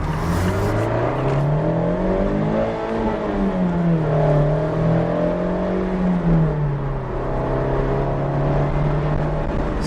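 Synthetic engine sound piped into a Mazda MX-5 RF accelerating onto a highway, a steady droning tone rising and dipping through the gears, loud and continuous with road roar beneath.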